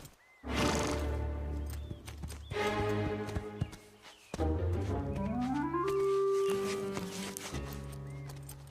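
Cartoon horses whinny and neigh loudly in several bursts, with hooves clip-clopping beneath, the calls rising and falling close by in an animated scene.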